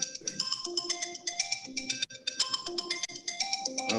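A mobile phone rings during a city council meeting, a melodic electronic ringtone repeating its bright pattern steadily for about four seconds, fairly close and clear with no talking over it.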